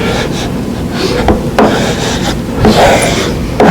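A wooden veneer hammer, about three inches wide, is pushed firmly across wood veneer laid on a wooden panel. It gives close, repeated rasping rub strokes in uneven bursts.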